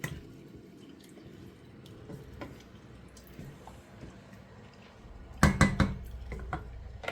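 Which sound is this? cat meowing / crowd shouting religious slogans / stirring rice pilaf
stirring rice pilaf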